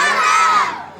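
A group of children shouts the chant Jai Ghoga Mata in unison at the Phooldei festival in Agastyamuni, one loud burst of massed young voices that rises and then fades away.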